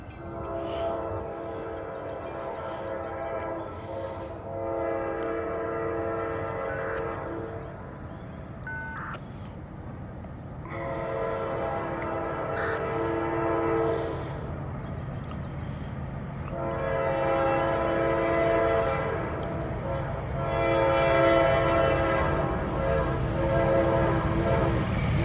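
A northbound freight train rolls past on the line, sounding its horn in several long, loud blasts over a continuous rumble of wheels and cars that builds toward the end.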